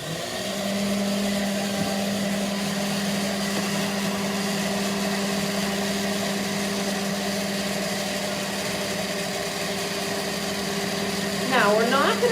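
Electric mixer whirring steadily while mixing anniversary cake batter, a sustained motor hum with a constant pitch, close and fairly loud throughout.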